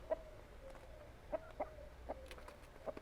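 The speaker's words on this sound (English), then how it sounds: "the rooster went and was calling over his ladies saying, hey, come check it out" Soft, repeated clucking calls from a rooster calling hens to food, a few quick bursts spaced irregularly over faint background noise.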